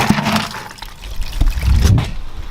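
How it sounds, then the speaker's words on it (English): Water pours into a bucket for a car wash, a short gushing, splashing fill with uneven surges, close and fairly loud, no talking. "Fill your bucket with water"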